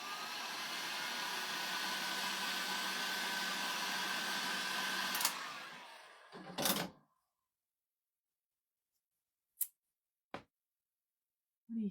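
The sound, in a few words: hair dryer drying paint on fall decor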